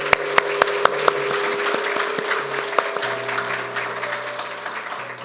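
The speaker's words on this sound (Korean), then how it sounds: "격려 박수 한번 축복 박수 한번 해주세요." A church congregation applauds during a Sunday worship service, a sustained wash of many hands clapping in a large room, opening with a few sharp distinct claps before settling into steady applause under a faint background hum.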